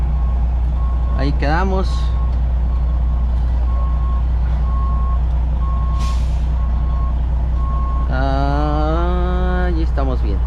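A loaded truck creeps backward in reverse without throttle while its reversing alarm beeps in an even, repeating rhythm over a deep idling rumble. Someone talks now and then close by.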